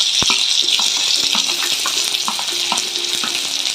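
Curry leaves, cumin and green chillies frying in hot oil in a pan, a loud, steady, close sizzle with a few clicks and taps from stirring, no talking.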